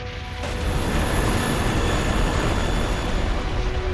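Harrier jet engine roar in the Metal Gear Solid 2 video game, starting abruptly after a brief quiet moment and holding as a loud, steady, broadband jet rumble with a thin high whine throughout.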